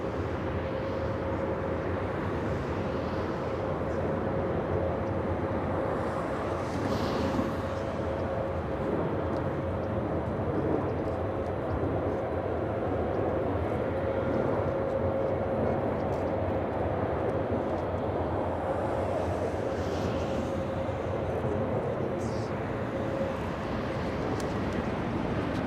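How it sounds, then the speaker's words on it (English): American Airlines flight 684 from Phoenix arriving at LAX: a steady, continuous jet roar with a faint whine running through it, holding at even loudness throughout with no talk. "American 684 flying in from Phoenix."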